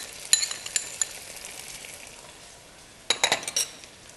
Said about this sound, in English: give it a good stir around, and make sure the chili paste cooks before we add in the rest of our ingredients